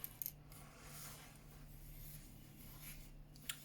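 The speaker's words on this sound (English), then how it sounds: "I've given them a good shuffle about." Cardboard-like counters for a D-Day Omaha Beach board game are shuffled by hand on a table, giving faint rubbing and sliding with a few sharp clicks of pieces tapping together, close and quiet.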